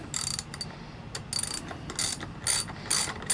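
Short bursts of ratchet clicking come as the handle is cranked to tighten the bolt on a homemade 17-inch hunting climbing stick, about six quick strokes in an uneven rhythm, close and fairly quiet.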